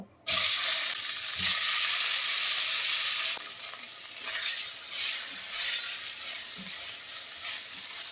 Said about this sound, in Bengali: এবার এই তেলের মধ্যে সেদ্ধ করা আলুগুলো দিয়ে একটু ভেজে নেব